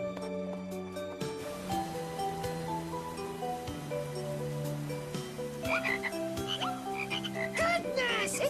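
Many frogs croak in a steady overlapping chorus, some calls nearer and louder, with scattered higher chirps joining toward the end.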